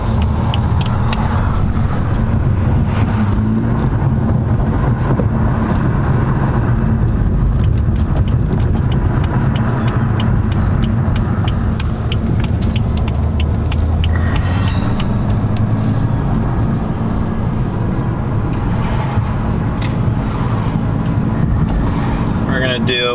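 A tuned BMW M235i with a Dinantronics sport tune pulls hard in second gear from low revs. Its engine and exhaust drone loudly and keep rising for the whole clip under the noise of the cabin.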